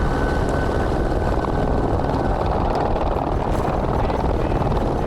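A helicopter flies over a remote Arizona desert, a loud continuous rotor and engine drone with a steady throbbing texture, close and unbroken, with no voices.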